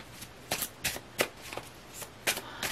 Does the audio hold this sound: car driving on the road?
no